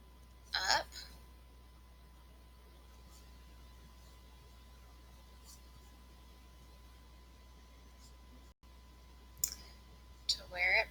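A computer mouse gives a few sharp, quiet clicks, one near the start and a couple near the end, over a faint room hum.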